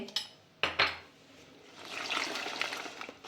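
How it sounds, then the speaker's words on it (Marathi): A spoonful of salt tipped into a pot of beans and water in a home kitchen: a couple of sharp metallic spoon clinks against the pot, then a soft, faint liquid swish. "जवळपास एक चम्मच मीठ टाकते"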